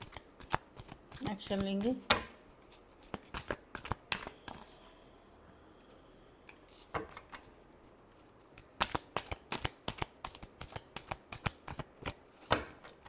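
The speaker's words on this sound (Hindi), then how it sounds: "last shuffle" Tarot cards being shuffled by hand in quick bursts of crisp riffling and snapping, with short pauses between rounds while someone speaks in between.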